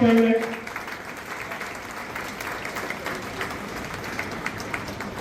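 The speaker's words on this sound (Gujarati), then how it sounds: "આપણે તાળીઓને ગણગણાટથી વધાવીએ છું" An audience at a lawyers' convention held by a district political party bursts into sustained applause, a dense wash of clapping from a large crowd after a brief voice at the start.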